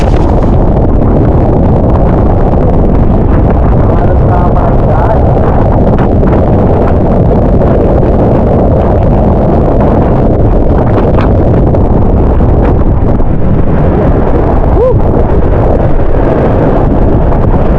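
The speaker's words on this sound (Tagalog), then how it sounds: "ganito kalakas yung hangin at ulan" Strong wind roars and buffets the microphone nonstop at a coastal fishpond in a storm with zero visibility, with a dense, rushing wash of heavy rain mixed in, loud and close.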